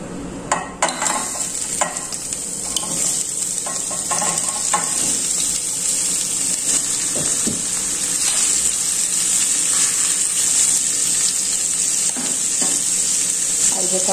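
Chicken gizzards fry in hot oil in a pan with a steady, bright sizzle that holds loud and close throughout, broken by a few sharper crackles and spatters near the start.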